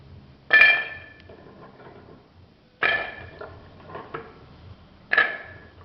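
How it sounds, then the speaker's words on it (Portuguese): Three distinct metallic clanks of an ordinary cooking pot being handled, spaced a couple of seconds apart with faint softer knocks between, fairly close in a quiet room and without talk. "Aqui nós vamos usar uma panela comum."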